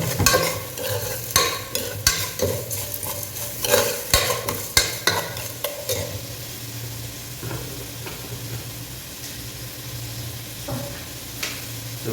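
A pan of mustard oil is stirred and frying for chicken biryani: close, repeated scraping strokes over a steady sizzle that thin out into a quieter, even fry after the first few seconds.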